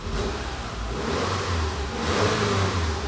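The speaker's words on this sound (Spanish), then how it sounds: "Ahí pueden ver que el carro encendió y está trabajando lo más bien" A Subaru car engine running steadily after starting, with a continuous low hum and a slight rise in revs near the end, close by and alone without voices.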